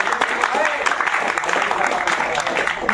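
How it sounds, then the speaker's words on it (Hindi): Applause from a crowd cheering a candidate at MP Police physical trials at a stadium in Bhopal, a steady patter of clapping under a voice announcing results. "ताली बजा दो।"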